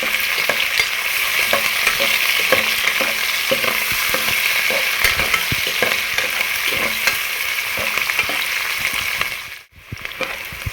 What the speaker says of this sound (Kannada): ಆಯಿಲಲ್ಲೇ ಈ ರೀತಿಯಾಗಿ ಫ್ರೈ ಮಾಡ್ಕೊಳ್ಳಿ